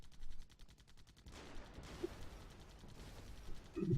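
Gunfire from a video game in which tanks are shot, with rapid bursts of shots at the start and then quieter, scattered firing and mechanical noise at moderate volume.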